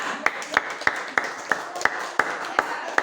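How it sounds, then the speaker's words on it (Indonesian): A small class gives a round of claps for a student group in a classroom, about ten sharp, evenly spaced claps over three seconds, fairly close, with a faint murmur of voices underneath. "Tepuk tangan untuk kelompok 2"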